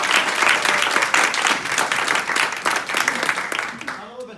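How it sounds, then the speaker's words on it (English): A crowd applauds loudly and steadily for several seconds, then the clapping fades out. "Let's give a little bit of round of applause."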